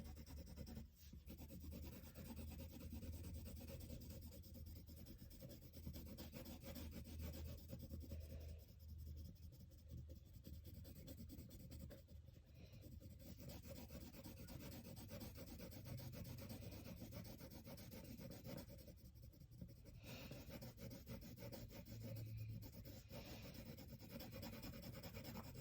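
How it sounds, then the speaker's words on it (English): Graphite pencil shading steadily across paper while drawing a book character, a continuous soft scratchy rubbing with small pauses in stroke rhythm, close and uninterrupted by talk. "Make sure you try to leave your pencil turned the same way so that it blends"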